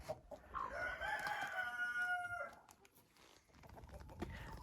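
Inside a chicken coop on a freezing winter day, a rooster gives a full cock-a-doodle-doo crow close by, followed by quieter clucking from the hens.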